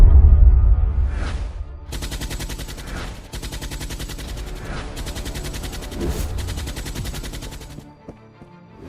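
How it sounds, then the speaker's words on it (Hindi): Rapid gunfire sound effect from an animated detective story, a sustained burst of fast, loud shots lasting several seconds after a brief whoosh, with no talking over it. "फातिमा, फायर!"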